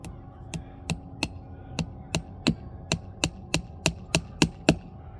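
Hammer blows drive a nail into a walnut tree at a graft, about a dozen sharp, evenly spaced knocks that grow slightly louder, close by over a steady low hum.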